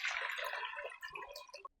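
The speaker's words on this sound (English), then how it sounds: "To the pot, add 8 cups of water." Water gushes into a cooking pot for Jamaican seafood stew peas, a bright, rushing pour that fills the pot for under two seconds and then cuts off, close and alone.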